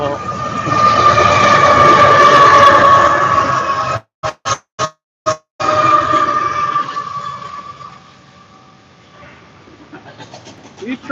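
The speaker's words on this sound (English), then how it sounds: "these trains are cool when they come through here because they usually come with a middle DPU" A Union Pacific freight train rolls past, loud and steady for several seconds, broken by a few sharp gaps, then fading and thinning toward the end.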